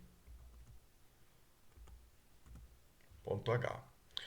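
Light clicking keystrokes as code is typed on a computer keyboard, faint and scattered, with someone speaking briefly toward the end.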